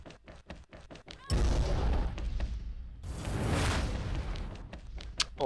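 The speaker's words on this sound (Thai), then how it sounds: "ระเบิดตกกล่องสไนครับ" Scattered gunshot cracks in a video game give way to a loud, rumbling grenade explosion that rolls on for seconds, followed by more sharp shots and footsteps.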